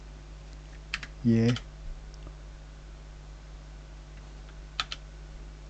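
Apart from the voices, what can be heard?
typing on a computer keyboard, pasting and pressing Enter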